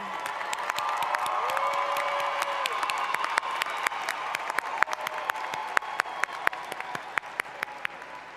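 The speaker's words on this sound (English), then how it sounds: "Before our alma mater, I ask that we give a big round of applause for Dr. Beverly Vaughn, Professor of Music," Audience applause at a university baccalaureate ceremony: sustained clapping from a large indoor crowd with scattered cheers and a brief whoop, steady and fairly loud throughout.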